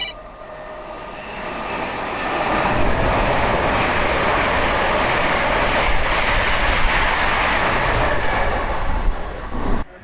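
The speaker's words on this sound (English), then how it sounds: "Now that's a fast train." A fast train rushes past nearby in a loud, sustained roar with rattling wheels, building quickly and holding steady before cutting off abruptly, with no voices.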